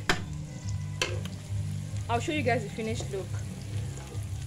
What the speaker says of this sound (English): I'm making the fried rice, and yeah, I'm boiling the rice with the remaining chicken stock